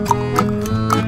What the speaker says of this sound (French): un petit cheval blanc tout blanc et ses sabots chantaient quand il allait trottinant dans les champs